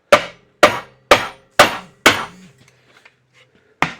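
Five firm, evenly spaced hammer blows seat the chuck on a Delta drill press, each metal strike ringing briefly, followed by a pause and one more strike.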